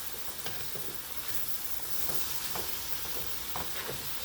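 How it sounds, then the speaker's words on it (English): Pork and squash sizzle and simmer in a pan with a steady crackling hiss, joined every second or so by faint stirring scrapes; no one speaks. "Hear that sizzling, simmering, squashy goodness."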